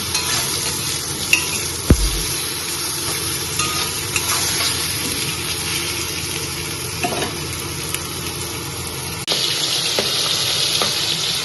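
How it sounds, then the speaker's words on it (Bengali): Thinly cut fish cooks in oil with nigella seeds and fried eggplant, producing a continuous close frying sizzle with occasional stirring clinks and scrapes against the pan, and no talking. "এই মাছটা একদম পাতলা করে করা হচ্ছে কালো জিরে তেলে দিয়ে কালো বেগুন ভেজে মাছটা করা হচ্ছে"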